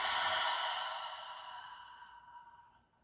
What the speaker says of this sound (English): And when you're ready, releasing that breath.